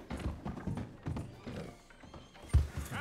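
Hooves of a horse ridden through a town in Red Dead Redemption 2 beat in a steady clip-clop rhythm, moderately close, with a heavier thud near the end and no talk.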